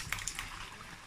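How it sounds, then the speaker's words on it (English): Tomatoes being poured into a cooking pan in a home kitchen, a soft wet, liquid trickle with a few light splashes, fairly faint and close. "So now I'm going to pour my tomatoes."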